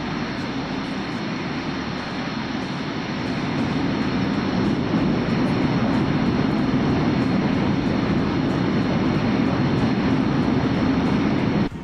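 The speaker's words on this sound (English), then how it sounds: "Very quiet in the cabin. The engine noise isn't that severe." Steady, loud jet engine drone of an MD-80 airliner heard from inside the cabin in Microsoft Flight Simulator, a constant broadband roar that swells slightly partway through and holds unbroken with no talk.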